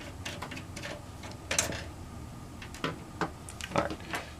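A small screw being worked loose from a PS3 Slim console casing with a screwdriver: a handful of sharp, close clicks and scraping ticks, spaced irregularly over a quiet background, with no talking.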